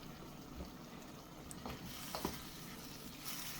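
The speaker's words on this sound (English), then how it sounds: "so you can hear the sizzling" Beef strips for a stir fry sizzle in a hot pan, a soft continuous crackle with a few sharper pops and spatters, heard close but quietly.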